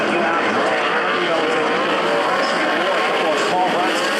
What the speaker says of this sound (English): Hammer down, we're racing.